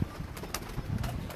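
Pigeons, Teddy and Rampuri fancy breeds kept by a Karachi hobbyist, coo softly with faint low murmurs and brief flutters close by, with no talking.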